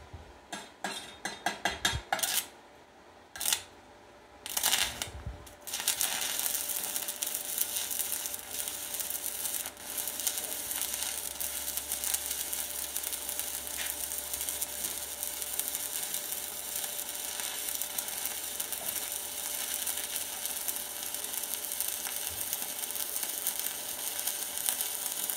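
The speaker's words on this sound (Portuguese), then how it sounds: "Aqui eu vou começar a soldar de cima para baixo." An electric arc welder lays a simple weld bead from top to bottom, a few short crackling starts giving way to a long, steady, close hissing sizzle.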